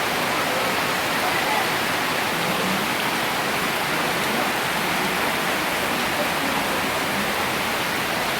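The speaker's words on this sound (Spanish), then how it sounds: "El agua es con brisa." Wind-driven rain from Storm Franklin pours down in a dense, unbroken roar of water that stays loud and even throughout, with no pause or change in strength.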